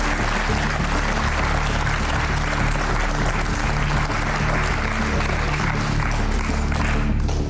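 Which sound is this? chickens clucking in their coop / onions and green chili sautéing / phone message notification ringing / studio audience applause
studio audience applause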